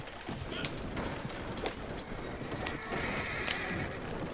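Horse in the video game Red Dead Online galloping at high speed, with steady hoofbeats, snorting and a whinny, all loud and close over a busy game soundscape while someone talks.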